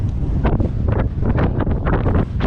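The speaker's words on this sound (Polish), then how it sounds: "O Jezu, tak wieje z tej góry." Strong wind blasts across a low mountain summit, roaring and gusting loudly against the microphone in uneven surges with no talk.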